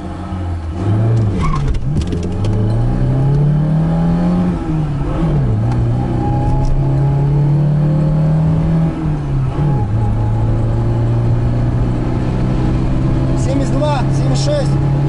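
A VAZ 2106 engine revs up repeatedly as the car accelerates to about 80 km/h, its loud droning pitch climbing and dipping between shifts, with a few jerky stumbles along the way.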